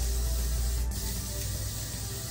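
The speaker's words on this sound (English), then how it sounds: "I'm going to spray it with Got to Be Glued on both sides of it." A steady close hiss of Got to Be Glued hairspray misted onto a fluffed-out section of a wig, running continuously without pauses and no talking.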